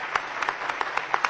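Audience applause for Congressman Ron Paul at an NRLC gathering, a brief burst of scattered, fairly faint clapping with distinct individual claps, no talking over it.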